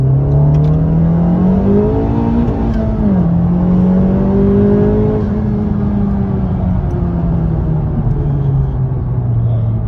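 A Honda Civic Type R in R track mode accelerates hard, its loud engine note rising steadily through the revs with a brief dip at a gear change, then droning on at high volume.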